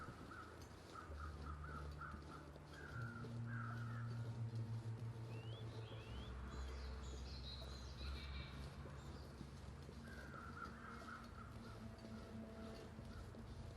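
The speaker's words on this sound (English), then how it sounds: "Some crows will help us locate that wolf." Crows cawing in the video game The Long Dark, set in a snowy wilderness, several harsh caws repeating at a distance over a low wind and ambient drone, faint overall.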